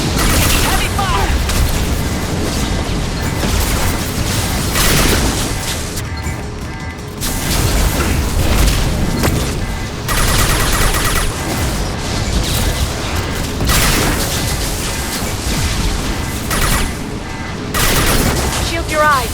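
Heavy gunfire in the Mass Effect 2 combat scene: loud, dense bursts and booming shots, nearly continuous with brief pauses, and voices shouting under the din.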